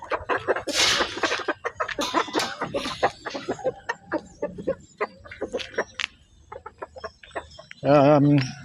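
Chickens cluck in a quick, uneven stream of short calls close by, with a louder drawn-out squawk near the end and some talking mixed in.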